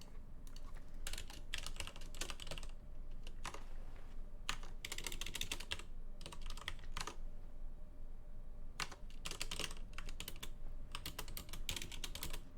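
Typing on a computer keyboard in clustered bursts of rapid key clicks separated by brief pauses, steady and close, with no voices.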